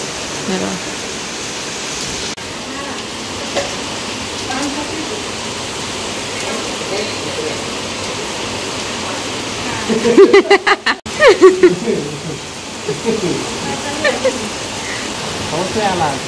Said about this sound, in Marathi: जोरात पाऊस आलाय दिसत नाही पण वाजत असेल.